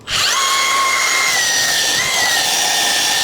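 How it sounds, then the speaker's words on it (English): A belt sander runs close and loud, sanding a scribed red line off a wooden workpiece with a steady high whine that starts abruptly and holds for about three seconds. "now you can use the belt sander to clean it up"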